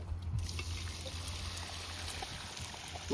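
Steady stream of water pouring and trickling into a pot for biryani, a continuous liquid rush with no voices.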